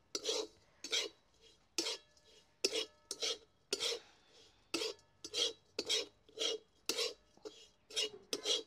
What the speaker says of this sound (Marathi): फक्त 2 मिनिटांसाठी खालीवर परतून घ्यायची